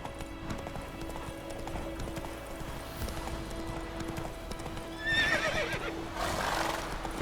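A horse gallops with rapid, steady clip-clop hoofbeats and lets out a neigh partway through, in The Witcher 3 video game, with a moderately loud mix and faint background game sounds.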